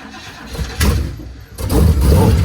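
A homemade snowcat with a big block 460 engine cranks over with the choke on and catches, building into a loud, rough idle nearby in a snowy outdoor setting.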